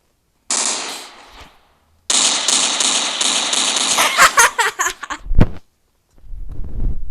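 Automatic gunfire from the mobile shooter Standoff: a short burst, a pause, then a longer loud rattling volley that breaks into separate shots and ends with a heavy final blast, followed by more firing starting up.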